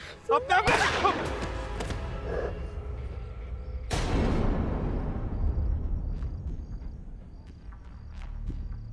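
Two sharp gunshots crack out, one early and a louder one a few seconds later, each followed by a long ringing echo that slowly fades.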